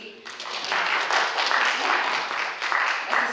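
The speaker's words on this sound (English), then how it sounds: "That's a sympathy clap." Scattered audience clapping at a church gathering, a modest burst of many hands lasting a few seconds, moderately loud and fairly even.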